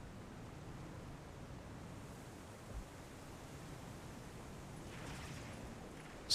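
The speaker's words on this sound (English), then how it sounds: "I like this waterfall area." A waterfall area in a video game, a steady, faint hiss of rushing water forming continuous broadband noise throughout, with no distinct events.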